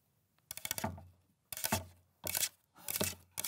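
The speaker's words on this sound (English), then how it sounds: "the sound of paper clips on a cutting board, making the tippy-tappy sound of canine" Paper clips tapped on a cutting board give short bursts of rapid, light clattering ticks, four separate flurries with brief pauses between, close and fairly quiet.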